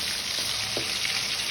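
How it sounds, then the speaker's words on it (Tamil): Fish seasoned with turmeric and salt shallow frying in a pan gives a steady, even sizzle, with a couple of soft clicks from the pan. "ஜஸ்ட் ஷாலோ ஃப்ரை தான் நம்மளுக்கு பண்ணணும்"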